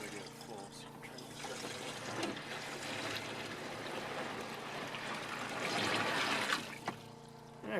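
Water from a utility pump trickles and splashes into a trash can as it fills, a continuous faint pouring that swells louder near the end.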